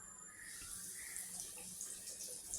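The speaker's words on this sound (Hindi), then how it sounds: "देखें ऑयल गर्म हो चुका है। अब देखें मैंने जो इसको कोडिंग की थी, हमारी सारी विंग्स ये हैं। अब डालती हूँ।" Chicken wings for KFC-style crispy wings fry in hot oil, producing a quiet, steady bubbling hiss that continues evenly throughout.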